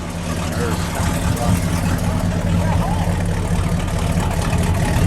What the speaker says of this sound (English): Let me hear that idle. That's a great sound,